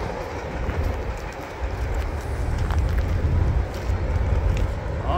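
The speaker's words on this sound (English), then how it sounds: "All that power for a short train. There's four UPs on that." A short Union Pacific train led by four locomotives rumbles past at close range, a loud continuous roar with a faint rail clatter, swelling slightly as it goes by.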